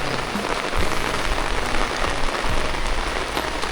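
Heavy rain pours down steadily over rice paddies in Laos, a dense, loud, continuous hiss and patter with low rumbling and no voices.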